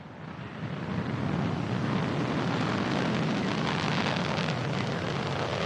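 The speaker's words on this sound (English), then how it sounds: "Ignition and liftoff." A Soyuz booster launches the Progress 58 cargo ship toward the International Space Station, its engines building within a second into a loud, continuous broadband roar with wind-like buffeting, unbroken to the end and with no voices.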